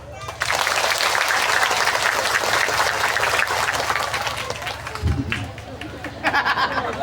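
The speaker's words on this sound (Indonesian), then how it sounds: "Masya Allah, tepuk tangan." A crowd at an Islamic religious gathering in a village claps loudly for several seconds before the applause thins and fades amid murmuring voices and a brief low thump.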